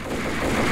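Rapid enemy gunfire in the Max Payne video game, a dense, loud and continuous burst of shots with no talk over it.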